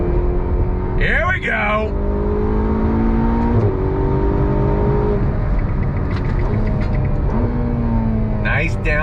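A Ferrari GTC4 Lusso T accelerates under throttle, its engine rising loudly through the revs with a whirring tone. Shifts break the climb, and people inside the car speak briefly over it.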